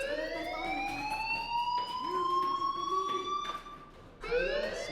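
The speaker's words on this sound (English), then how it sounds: "Hey, do you hear that fire alarm?" A fire alarm in the video game Life is Strange wails with rising, sweeping electronic tones, a loud siren-like sound that cycles repeatedly and restarts near the end, with no talking.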